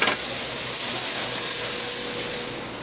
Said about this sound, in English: Saute it, incorporating all those great flavors.